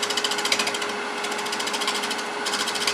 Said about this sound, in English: I'm going to use a bowl gouge with a scraping cut